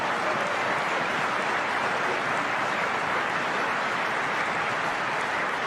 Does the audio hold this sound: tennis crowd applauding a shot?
yes